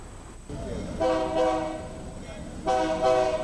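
A Nigerian Railway Corporation train at Osogbo Terminal sounds its horn in two loud, sustained blasts over a low rumbling engine and background noise.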